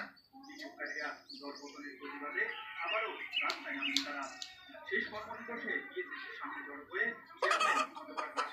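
Chickens clucking and chattering nearby over a busy background, with people talking and a burst of louder noise toward the end.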